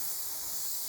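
Butter and margarine sizzle on a Napoleon Lex 485 infrared sideburner, a steady bright hiss that stays even and close throughout the brief moment, with no talking over it.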